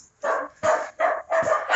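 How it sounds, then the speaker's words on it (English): Dogs bark repeatedly and excitedly close by, five quick loud barks in an uneven rhythm. "They see me coming, so they start barking like crazy."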